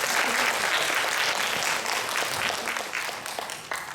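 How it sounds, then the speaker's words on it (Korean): A church congregation applauds to welcome a newcomer during Sunday announcements, a dense, steady round of clapping that fills the room and gradually thins toward the end. "저기 뒤에 한 분 계신데 환영한다고 저희 박수 한번 쳐드릴게요"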